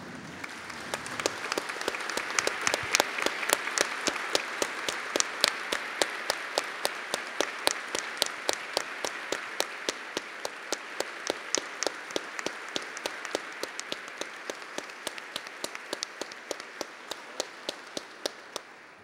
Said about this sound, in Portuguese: eu queria solicitar que todos ficassem de pé e efusivamente aplaudíssemos